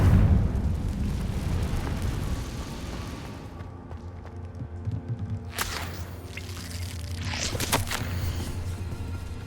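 A Confringo spell bursts into a fiery explosion in Hogwarts Legacy, a booming rumble followed by sharp crackling flashes and dripping, squishy sounds, moderately loud with no talk.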